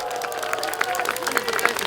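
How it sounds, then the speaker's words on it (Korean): Crowd applause at an outdoor concert in Hamyang after a band performance, a brief burst of dense clapping with some cheering, moderately loud and continuous. "여러분들 큰 박수 한번 부탁드리겠습니다"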